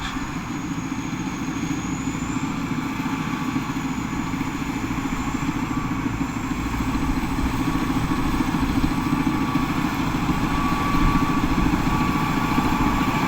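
Turbocharged combine harvester engine running steadily, a dense, loud, close diesel rumble with constant clatter and a faint high whine, unchanging throughout, no voices.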